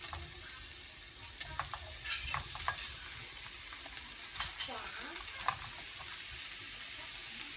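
Minced meat, 500 grams, sizzles steadily in a pan with softened onions, with scattered scraping and stirring clicks throughout at a close, moderate level.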